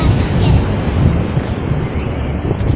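Ocean waves wash onto a beach in a loud, continuous rush of surf mixed with heavy wind buffeting on the microphone, close and unbroken, with faint voices in the background.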